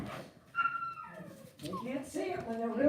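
Puppies whimper and yip in high, wavering cries, close and fairly loud, with a person talking over them between the yelps.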